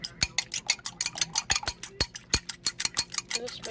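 A fork mixes softened butter with brown and white sugar in a bowl, giving a quick, steady run of bright metallic clinks and scrapes, close and distinct, repeating roughly every fifth of a second.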